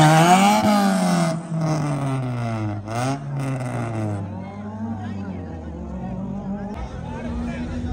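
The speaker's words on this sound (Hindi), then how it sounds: "एक तो इधर शोर ही बहुत है, ये ड्रिफ्ट ट्रैक बनाया है, यहाँ पे ड्रिफ्टिंग हो रही है" Cars drifting on a purpose-built drift track at a university autoshow, engines revving loudly and sweeping up and down in pitch, with crowd chatter and talking mixed in.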